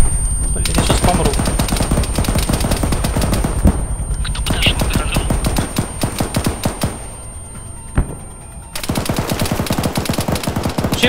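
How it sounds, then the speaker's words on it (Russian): Long, rapid bursts of machine gun fire from an ArmA 3 battle, loud and close, with brief pauses and a sharp single shot between volleys, then sustained firing again. "Чей пулемет зажимает?"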